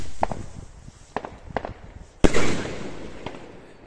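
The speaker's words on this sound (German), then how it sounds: "Und jetzt noch die letzte, die Shell Rocket Strobe Willow." Shell Rocket Strobe Willow firework rocket from a 34mm/38mm shell rocket set: a few sharp pops, then a loud launch bang followed by a crackling, hissing burst that fades out, outdoors with no talk.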